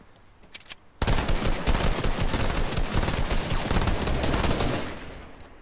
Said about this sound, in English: If they hit me, I'm shooting them.